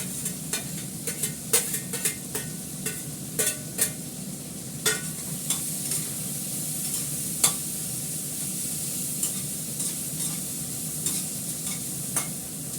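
Carrot, beans and green chilli are stirred in a hot pan over a steady oil sizzle, with repeated sharp clicks of a spatula scraping against the pan; nobody talks.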